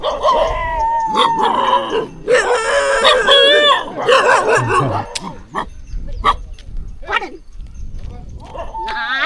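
Dogs bark and howl loudly in overlapping bursts in the Sathyamangalam tiger reserve forest, mixed with people's voices and some rustling movement.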